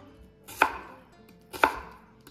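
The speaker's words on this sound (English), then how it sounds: "Cut one onion into large strips." A knife cuts through an onion into large strips on a cutting board: two crisp, separate chops about a second apart, close and clear with no talking.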